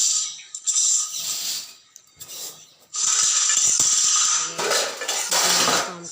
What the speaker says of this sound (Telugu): అలాగే కౌంటాకి స్టాండ్లో ఉన్న గిన్నెలన్నీ సదురుతున్నాను